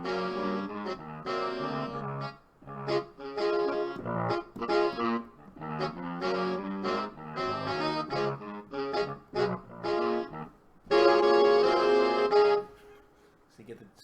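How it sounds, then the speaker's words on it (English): A synthesizer preset voiced as four saxophones plays chordal, stacked reedy phrases in short punchy bursts with gaps, closing on a longer sustained chord. "This is 4 saxophones."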